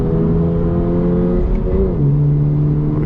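A 2022 Toyota GR86 on a race track with its engine droning steadily from inside the cabin. The pitch holds, then dips as the car shifts, a loud, constant hum with no talking.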